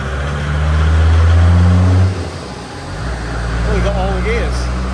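A 1957 Series 1 Land Rover diesel engine revs hard on a dynamometer, a loud steady drone holding and then dropping off, with voices speaking over the quieter tail.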